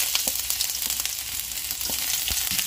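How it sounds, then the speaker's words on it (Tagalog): Ginger hits hot oil in a wok and crackles in a busy, close sizzle, with faint stirring scrapes and pops breaking through now and then. "Gisa natin ang ating luya."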